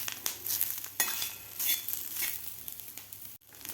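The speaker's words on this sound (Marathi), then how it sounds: "आणखी 1 मिनिटभर आपल्याला हे खोबरं आणि कांदा व्यवस्थित भाजून घ्यायचा आहे." Onion and grated coconut roast in a pan with a steady dry crackling sizzle and occasional scraping stirs, close and moderately loud.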